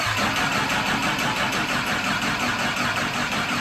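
A turbocharged Honda CBR 1000 motorcycle engine swapped into a Miata runs loud and close, a dense, steady high-revving idle with no voices.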